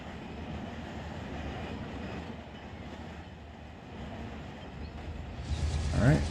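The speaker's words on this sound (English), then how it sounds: "I still hear the engine running." A CSX locomotive engine idles with a steady low rumble in the Run 8 train simulator game, then rises into a louder, harsher surge at the very end.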